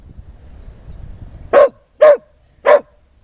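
A dog barks three times in sharp, evenly spaced, close and loud bursts outdoors during a training lesson on getting onto a log, after a quiet rustling lead-in.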